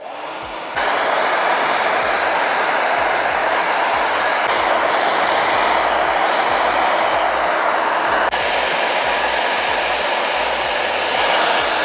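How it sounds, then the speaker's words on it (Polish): A loud, steady blower dryer drying a car roars continuously without pause, a strong whooshing rush of air close to the listener. "do suszenia my używamy suszarkę"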